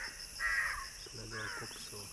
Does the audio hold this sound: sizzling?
no